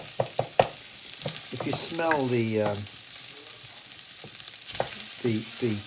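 Whole spices and garlic frying and stirred in a pan for spinach curry, a steady close sizzle with utensil clinks and scrapes, plus some brief vocal-like tonal sounds in the middle.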